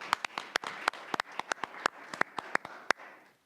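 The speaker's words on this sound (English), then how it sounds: "Join me in giving all of them another round of applause." Applause at a community redevelopment agency meeting: a few people clap in a sparse, uneven rhythm of sharp, distinct slaps. It sounds close and moderately loud, then tapers off after about three seconds with no talk over it.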